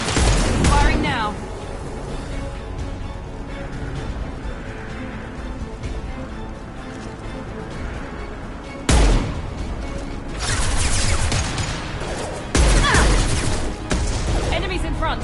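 Gunfire and blasts from the game Mass Effect 2, with sharp bursts and booming hits over a loud, busy combat bed, punctuated by sudden heavy impacts.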